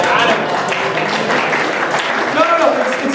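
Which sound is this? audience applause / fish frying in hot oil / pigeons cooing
audience applause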